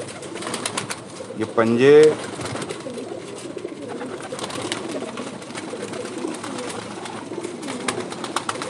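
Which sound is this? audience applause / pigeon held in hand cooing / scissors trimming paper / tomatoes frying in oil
pigeon held in hand cooing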